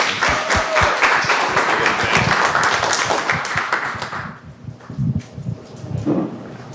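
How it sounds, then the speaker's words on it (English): Audience at a panel discussion on waste and recycling claps in a dense burst that thins out after about four seconds, leaving a few scattered knocks and rustles. "If you wouldn't mind applauding."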